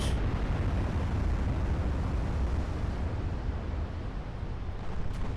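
Heavy warship gunfire in Ultimate Admiral Dreadnoughts, a battle fought by a Maine-class gunline against New Jersey, heard as a continuous, loud rumbling roar of distant big-gun salvos with no distinct individual shots.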